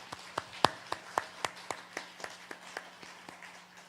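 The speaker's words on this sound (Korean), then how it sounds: "우리 박수 한번 칠까요?" A church congregation claps in unison at a steady, even rhythm, about a dozen sharp claps over a few seconds, fairly faint and fading slightly toward the end.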